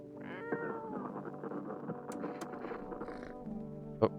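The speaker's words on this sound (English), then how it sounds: "Wait, where'd the cat go?" A cat in the video game No, I'm Not A Human meows several times. The calls are close and clear over a steady backdrop of game ambience, and a short sharp meow closes the run.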